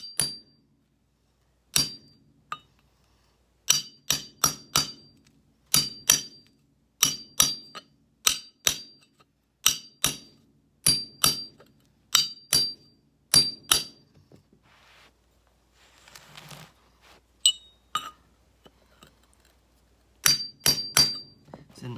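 A hammer taps repeatedly while carpet is re-installed in a basement after a flood, with crisp, close, regular strikes that come in steady bursts and pause briefly in the middle.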